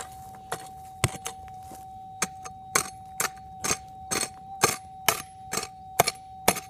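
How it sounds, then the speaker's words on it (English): A hammer strikes a gold-bearing quartz reef during prospecting, giving sharp metallic clangs and cracks of rock at an uneven pace, about a dozen blows, fairly close over a quiet background. "I'm actually smashing the reef apart there."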